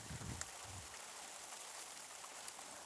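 Steady rain falls outdoors, a dense, even patter that stays constant throughout with a brief low rumble near the start.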